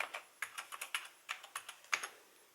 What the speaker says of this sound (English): I will type actually S